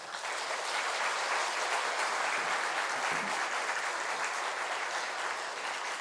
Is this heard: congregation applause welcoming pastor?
yes